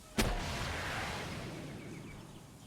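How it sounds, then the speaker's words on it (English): A rocket launcher fires in Palworld: one sharp, loud blast at the start, then a long rumbling tail that slowly fades over a couple of seconds, with no voices. "I can fire the rocket, but it's not going to hit the pangolin"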